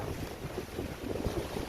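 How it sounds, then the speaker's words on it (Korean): Huge rough waves of the East Sea at Simgok, Gangneung, a steady churning roar of surf buffeted by wind noise on the microphone, continuous and fairly faint. "화면에 보다시피 파도가 뭐 어마어마합니다"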